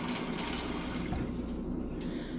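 Water poured into a mixing bowl while making pizza dough, a steady broadband splashing rush at close range, running continuously without talk.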